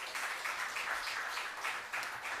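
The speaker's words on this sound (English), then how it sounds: "So you owe yourselves a round of applause." Steady, even applause from an audience at a political cottage meeting, a dense hiss of many hands clapping continuously at moderate distance, without talk.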